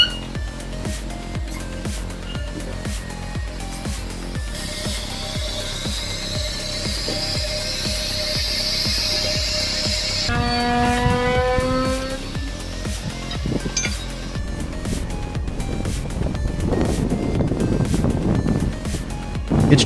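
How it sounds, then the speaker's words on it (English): A modern excavator with a powerful engine tearing down a silo, giving a continuous mechanical rattle and grinding with clanking, ratcheting metal, a high shrieking scrape in the middle and a steady engine rumble throughout. "the modern excavator, with its powerful engine, effortlessly demolishes the silo"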